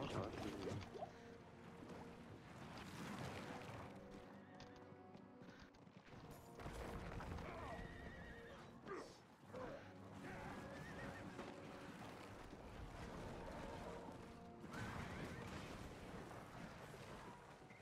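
A horse in Diablo 4 neighs and whinnies amid clattering hooves and mechanical game effects, moderately faint, layered with ambient game sound and occasional voices.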